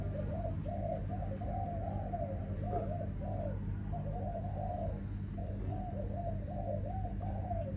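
Malaysian spotted doves coo in repeated soft phrases, steady and rhythmic, over a constant low background hum, with no voices present.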